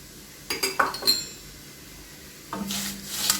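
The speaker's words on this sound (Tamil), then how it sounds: "உளுந்து கூடவே நான் காஞ்ச மிளகாவும் கருவேப்பிலையுமே போட்டு வறுத்துடுறேன்" Urad dal, dried red chillies and curry leaves dropped into a kadai to roast, a quick cluster of clinks and rattles followed by a pause, then a soft sizzling, scraping rush.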